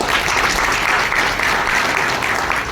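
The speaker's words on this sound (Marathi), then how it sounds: "त्यांच्यासाठी एकदा जोरदार टाळ्या" A hall audience applauds Sagar saheb at a gathering of a social organization: loud, dense, continuous clapping that holds steady for a few seconds.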